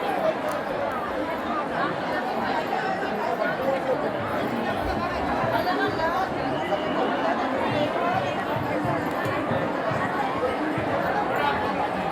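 Crowd of pilgrims at the Sant Tukaram Maharaj temple in Dehu, continuous dense murmur of many voices with footsteps and general hubbub, steady and enveloping throughout.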